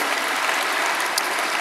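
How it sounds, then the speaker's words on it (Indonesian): Steady, dense applause from a church congregation, a continuous wash of many hands clapping at even loudness throughout, with no talking over it. "Berikan tepuk tangan kita untuk Tuhan kita"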